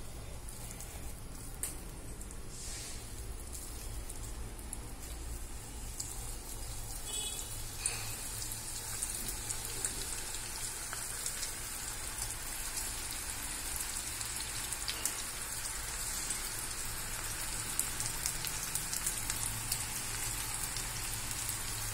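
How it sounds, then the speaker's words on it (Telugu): Amaranth leaf pakoda fry in hot oil, a dense, even crackling sizzle like steady rain that continues without a break, moderately close and alone, with no talking. "వేగుతున్నాయి తోటకూర పకోడా"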